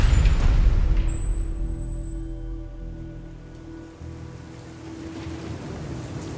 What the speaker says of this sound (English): the heavy rain and thunder from outside has infected almost every square inch of the room